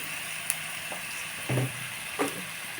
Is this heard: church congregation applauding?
no